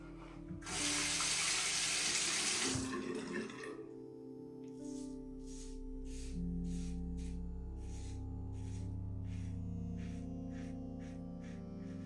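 Water running from a tap into a sink while washing up after shaving, a loud hissing stream for a few seconds, then trickling and splashing as hands rinse under a faint hum.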